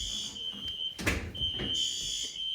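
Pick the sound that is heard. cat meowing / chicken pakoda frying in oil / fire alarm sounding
fire alarm sounding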